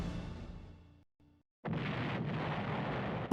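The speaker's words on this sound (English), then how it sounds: "That sound effect! Explosion! Stock explosion, man!" A stock explosion effect from a video game bursts in loudly after a short silence, a broad roaring blast that holds steady to the end, with a fading rumble from an earlier blast before the gap.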